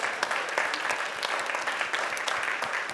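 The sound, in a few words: audience applause for the musicians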